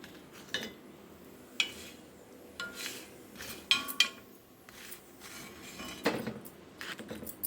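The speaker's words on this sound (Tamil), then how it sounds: "இப்போது அடையை நம்ம எடுத்து பிளேட்டில் வச்சிடலாம்" Cooked adai lifted from a pan onto a plate, with sparse metallic clinks and scrapes of a spatula and dishware spaced out over several seconds in a quiet kitchen.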